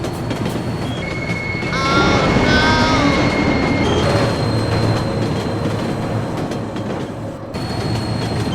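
Loud, continuous rumble of a passing train close by, with short high tonal squeals or horn-like tones early on over the steady rolling roar.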